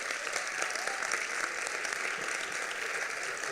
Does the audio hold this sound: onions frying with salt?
no